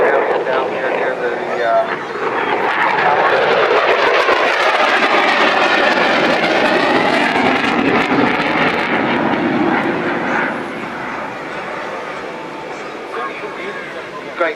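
Typhoon jet at an airshow roars past with a loud, sustained rushing thunder that peaks mid-pass and then slowly fades, while a commentator talks over it.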